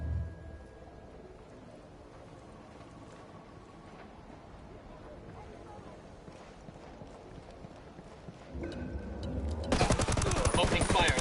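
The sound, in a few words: gunfire in Ghost Recon Wildlands video game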